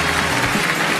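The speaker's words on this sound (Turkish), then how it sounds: "Alkışlıyoruz." Studio audience applause on a Turkish televised singing contest, a loud, dense burst of clapping filling the whole short moment.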